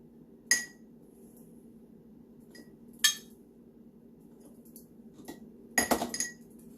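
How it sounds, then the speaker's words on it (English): Diced onion is spooned into a canning jar for small-batch burrito-in-a-jar canning, heard as a few sharp, isolated clinks of a spoon against glass spaced seconds apart, with a quick cluster of taps near the end over a quiet kitchen hum. "Now I'm going to put 3 tablespoons diced onion."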